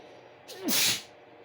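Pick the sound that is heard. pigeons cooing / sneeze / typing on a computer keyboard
sneeze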